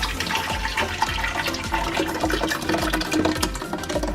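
Liquid cooking seasoning mixture is poured into a larger container, producing a continuous close splashing, gurgling pour at a steady moderate level with no talk.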